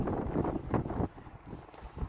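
Strong wind outdoors at a breezy sightseeing spot, buffeting the microphone with a low, rough rumble that surges and eases across the moment, with no talking.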